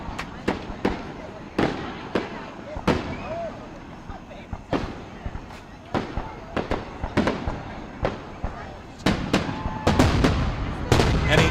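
A grand finale of fireworks at McKeesport's International Village festival: loud, sharp booms burst one after another, some far-off crackle between them, thickening into a dense volley near the end, while people talk over it.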